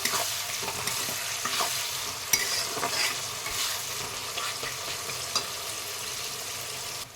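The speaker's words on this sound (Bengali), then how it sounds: "ভালো করে পেঁয়াজ ভেজে নেব" Onions with salt frying in a pan for chicken biryani, a steady broad sizzle with occasional stirring scrapes and clicks, close and continuous with no voices.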